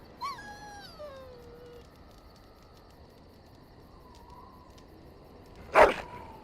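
A dog in Dragon Age: Origins gives a few short whines and yelps, faint and spaced apart, followed later by one louder bark-like burst against a quiet background.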